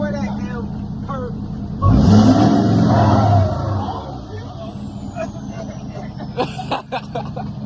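A Chevrolet SS engine fires up with a loud, close burst, revs hard for a couple of seconds, then drops back to a steady rumble while people talk nearby.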